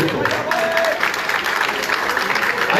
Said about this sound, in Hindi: मंजर सिद्दीकी तालियां अपनी तालियां कर दो दोस्तों